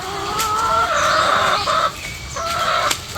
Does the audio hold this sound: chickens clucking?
yes